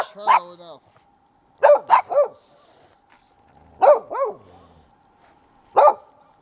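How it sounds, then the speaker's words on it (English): A dog barks in short bursts, single and double yips spaced a couple of seconds apart, fairly close against an otherwise quiet background. "What are you barking at?"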